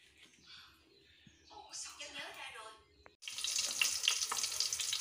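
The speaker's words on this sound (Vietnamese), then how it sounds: "Là phi hành tỏi với lại xả vô nha mọi người, cho xả vào." Shallots, garlic and lemongrass hit hot oil in a pan and burst into a loud, steady sizzle that carries on to the end, after a quieter stretch with faint kitchen sounds and a voice.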